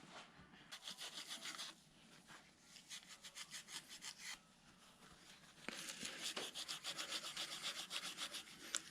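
A Scotch-Brite pad scrubs the area around a broken water pump bolt, giving fast, rhythmic rasping strokes up close, in two steady bursts separated by a brief pause.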